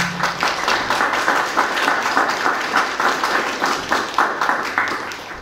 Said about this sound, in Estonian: Teeme talle aplausi.